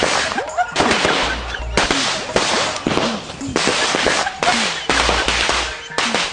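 Firecrackers go off at a fireworks shop, sharp loud bangs and crackling bursts in quick irregular clusters, with short gaps between volleys and some low rumbling underneath.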